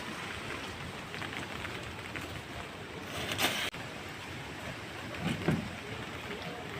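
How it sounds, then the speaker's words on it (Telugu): Rain falling steadily on a vegetable garden with eggplant and ridge gourd plants, a continuous soft hiss close to the microphone, broken by a couple of brief knocks. "వర్షం పడుతుందండి"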